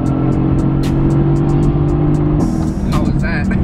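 A 2018 Mercedes-AMG GT S on an open road, its engine droning steadily and loud close up with a rising note near the end, with people talking inside the car.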